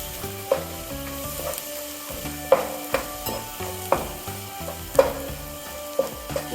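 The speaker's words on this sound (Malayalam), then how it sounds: "ഈ മല്ലിപ്പൊടിയും മഞ്ഞൾപ്പൊടിയും മുളക് പൊടിയും എല്ലാം ഇതിൽ നന്നായിട്ട് വഴന്ന് വരണം." Coriander, turmeric and chili powder fry in a pan for a Kerala-style chicken varattu, with a steady sizzle under rhythmic scraping stir strokes about once a second; no one speaks.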